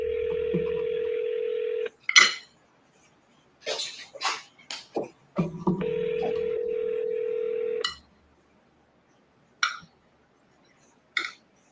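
A desk telephone at a wholesaler's office places a call: a long steady ringback tone sounds twice, close and clear, with short clicks and beeps between the rings and no talking.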